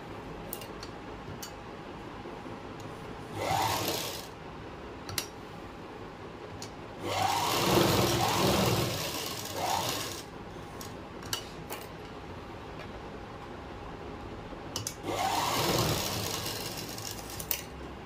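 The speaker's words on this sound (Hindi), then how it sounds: "और अब यहाँ एक पैर की सिलाई और लगाएंगे।" A sewing machine stitches a pant leg seam, running in three separate bursts of a few seconds each with quiet pauses between them, fairly close and with no talking.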